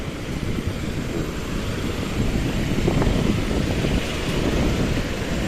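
Steady wind gusts roar across the microphone along Roxas Avenue, a continuous low, buffeting rush with faint distant traffic hum beneath and no voices.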